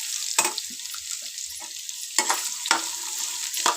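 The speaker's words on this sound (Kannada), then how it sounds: "ಮುಲ್ಲಂಗಿ ಚೆನ್ನಾಗಿ ಎಣ್ಣೆಯಲ್ಲಿ ಫ್ರೈ ಮಾಡ್ಕೊಳ್ಳೋಣ." Radish (mullangi) frying in oil for palya, a soft continuous sizzle with a few distinct scraping and clinking stirs against the pan, close and without any voices.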